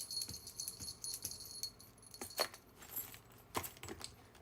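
Faint metallic jingling and tinkling of a small bell charm hanging on trousers, shaking with movement in scattered bursts over a quiet background.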